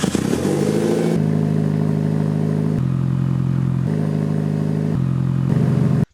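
Mitsubishi Evo 7 engine through a new Tomei exhaust, a loud steady idle with a raspy edge, shifting pitch in several abrupt steps as the revs change, then cutting off sharply at the end.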